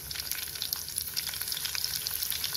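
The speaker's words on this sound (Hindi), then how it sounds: "जीरे को अच्छे से पकने देते हैं और साथ में हम हरी मिर्ची भी डाल देंगे, ताकि ये भी तेल में अपना फ्लेवर छोड़ सके।" Cumin seeds and green chilies fry in hot oil with a steady, close, crackling sizzle that holds evenly throughout without pause.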